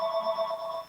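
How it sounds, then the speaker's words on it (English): Mobile phone ringtone sounding during a panel discussion at a conference, a steady electronic ring close and clear for the full second with no voices over it. "Sorry for my phone ringing."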